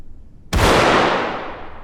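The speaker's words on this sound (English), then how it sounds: "if I take this grenade and have it explode in the open here" A grenade detonates in open space in the VR shooter H3VR: brief quiet, then one sudden loud blast that rings out and fades slowly over more than a second of open-air reverb.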